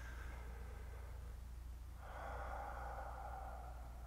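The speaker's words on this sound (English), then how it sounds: "and I take a slow deep breath" Slow, deep breathing close to the mic: a long airy exhale followed by a fuller, louder breath, soft and steady with no talking over it.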